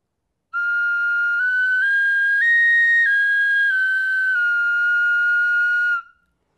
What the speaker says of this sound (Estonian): Ta on kõige rohkem selline tavaline vilepill